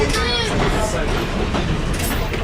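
A South Simcoe Railway diesel excursion train rolls slowly through the countryside near Tottenham, Ontario, its steady rumble and rhythmic wheel clatter continuous and close, with a voice speaking over it.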